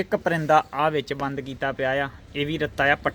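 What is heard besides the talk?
No everyday noises stand out.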